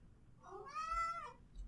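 A cat in the game Geneforge 5 gives a single clear, rising-then-falling meow that lasts about half a second over a quiet background.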